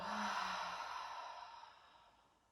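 During a gentle yoga class, a long breath is released after being held at the top of an inhale, a soft, airy sigh that starts fairly full and slowly tapers into quiet.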